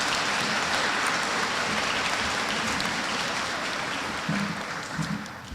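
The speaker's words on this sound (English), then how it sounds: "Let's give Xander a round of applause." A crowd claps for Xander at a Veterans Day program in a middle school, a dense and even round of applause that fades slightly toward the end.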